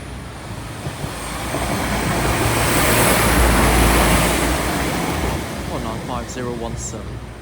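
A train rumbles past at close range, the roar swelling to a peak and fading, with a faint squeal near the end.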